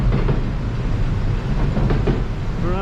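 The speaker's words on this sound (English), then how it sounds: "Well, it's train action nonetheless." A train rolls past on CSX track, former Boston and Maine trackage, with a steady, loud rumble and wheel clatter that stays close throughout. Faint squealing rises near the end and no one speaks.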